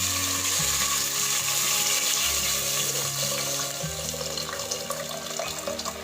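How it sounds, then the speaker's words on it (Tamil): Tamarind water poured into a pan of anchovy fish curry, a steady splashing, gurgling stream that runs close and continuous for several seconds. "நம்ம இந்த புளி தண்ணியாக ஊற்றுவோம்."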